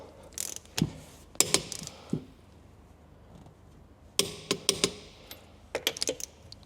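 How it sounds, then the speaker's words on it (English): Clusters of crisp metallic clicks from a torque wrench ratcheting as wheel nuts on a Utopian Transit custom Raptor are tightened, in short bursts separated by quiet pauses. "That click is telling me that it's at the correct torque."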